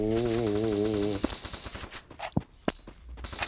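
Gunfire in a shooting video game: a steady droning tone gives way to several sharp, separate shots and thuds at irregular intervals, with a voice talking in between.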